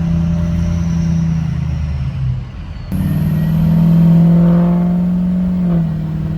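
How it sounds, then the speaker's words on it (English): A 6.0 Powerstroke diesel truck pulls away and drives, its loud engine drone heard from the cab, dipping briefly and then swelling as the revs climb. "let's go. Let's take a little ride along here."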